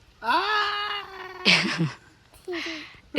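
A domestic cat meows close by in several plaintive, drawn-out calls with short pauses between them, heard clearly with no speech over them.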